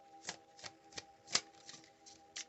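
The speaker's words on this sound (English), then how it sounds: "give it a good shuffle" A new, still-stiff tarot card deck is shuffled, giving a series of quick papery riffle bursts spaced roughly every half second, close and fairly quiet with no talking.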